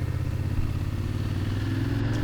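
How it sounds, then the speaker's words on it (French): Heavy touring motorcycle pulling away in first gear on tight Corsican hairpin bends, its engine a steady, loud, low drone held close throughout with no talk. "J'ai même été obligé de passer la première à chaque fois pour relancer le poids de la moto."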